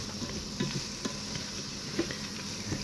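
Chopped onions frying in a Ninja Foodi pot at moderate heat, a steady soft sizzle with occasional light stirring taps, close and fairly quiet with no talk.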